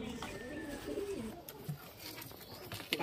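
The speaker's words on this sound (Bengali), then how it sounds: "পায়রা দুটো খুব সুন্দর কোয়ালিটির পায়রা" Pigeons, a pair of high-flyer birds being readied for delivery, coo softly in a low rolling murmur that repeats across the moment, with faint background rustle and occasional small knocks nearby.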